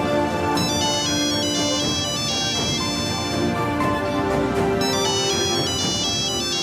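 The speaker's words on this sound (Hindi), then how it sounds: "ये तो असमती की फोन है।" A phone ringtone plays a loud, bright melodic tune of repeated electronic notes that continues without a break, with no talking over it.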